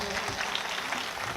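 A crowd at a Hindi humour poetry gathering applauds in a dense, steady wash of clapping that sounds moderately distant and even in level, with no talking over it.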